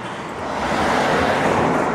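Road traffic passes on Central Drive in Blackpool, a close, swelling rumble of cars going by that grows louder and stays steady.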